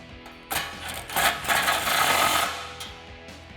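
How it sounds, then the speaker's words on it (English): A 13 mm deep socket tightening a bolt on a 2008-2019 Dodge Challenger during a lowering spring install, close metallic ratcheting and scraping rising for about two seconds, then easing off. "thread that in by hand and tighten it down with your 13 deep socket"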